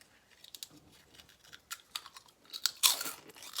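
Someone bites into a crunchy bugle-shaped chip nearby, making scattered sharp crunches with a louder burst near the end. Faint chewing noises come between the bites.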